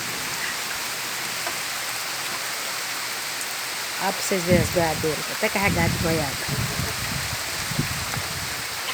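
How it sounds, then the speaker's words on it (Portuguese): Gentle, steady rain falling outdoors near guava trees, a soft continuous hiss throughout, with a person talking over it partway through. "Aí eu lembrei de filmar para vocês a chuva."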